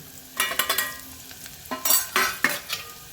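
Spice mix of crushed gathiya, peanut and chickpea powder, grated coconut, turmeric, salt, brown sugar, amchur and red chilli stirred in a pan for stuffed okra, giving a series of close, scraping strokes in irregular bursts with no voices.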